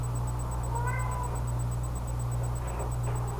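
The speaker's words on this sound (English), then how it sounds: "Oh, that's my cat." A house cat meows a few times, a short close call standing out over a steady low hum.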